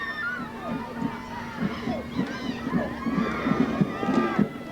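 Home crowd in the stands at Tatlock Field during Summit's last home high school football game of the season, a 1995 sectional championship, a steady murmur of many voices with scattered shouts under an announcer's talk.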